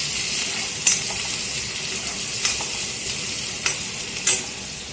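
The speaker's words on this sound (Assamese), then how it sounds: "এতিয়া কাটি লোৱা পিঁয়াজখিনি অলপ ৰঙচুৱা হোৱালৈ ভাজিম" Chopped onions frying in a pan for an Assamese mutton curry, a constant close sizzle broken by four sharp spatula scrapes as they are stirred, no talking.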